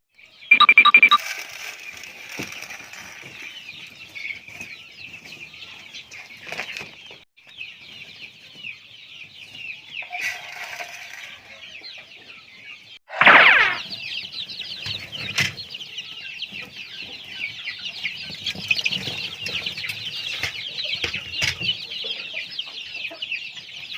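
Young chicks on a farm cluck and peep in a busy, continuous chorus while being fed, with a louder burst of flapping and squawking partway through before the steady chattering resumes.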